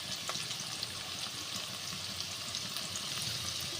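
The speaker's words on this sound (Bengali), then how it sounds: "দেখো পেঁয়াজটা ভাজা হচ্ছে," Onion frying in a pan for a chicken dish gives a continuous, dense hiss of sizzling oil at a steady level, heard alone without voices.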